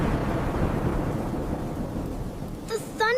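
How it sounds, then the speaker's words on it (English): Loud, low rumbling thunder rolls through a stormy night with rain behind it, fading over a few seconds before a voice briefly speaks near the end. "The thunder was loud."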